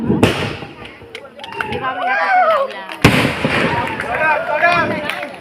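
Firework bursts crack loudly at the start and again midway, with crackling fallout between them while a crowd cheers and voices carry over the noise at the opening of a music programme.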